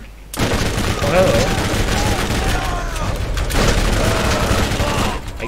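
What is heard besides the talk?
gunfire in the video game Borderlands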